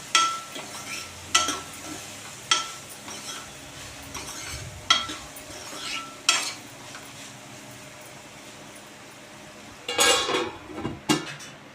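Small bitter gourd curry stirred in a frying pan, a spatula scraping and clinking against the metal at intervals over a low steady sizzle, close up with no talk.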